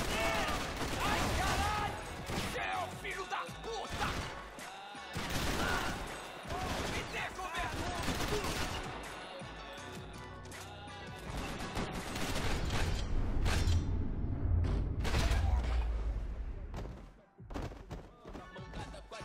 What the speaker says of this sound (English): And then it's just back to shooting.